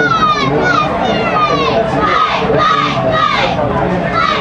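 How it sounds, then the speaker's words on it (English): Eighth grade cheerleaders shout a routine with the crowd joining in at a high school football game, a loud, continuous wash of young voices chanting and yelling in rising bursts. "Now we have the London 8th grade cheerleaders down here doing a routine, so a little bit of cheering from everybody tonight"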